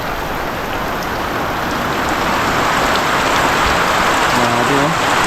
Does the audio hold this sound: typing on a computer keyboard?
no